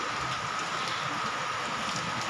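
Heavy pre-monsoon Kalbaishakhi rain falling outside a balcony, a thick, steady roar of downpour that stays loud and even from start to finish, with no talking.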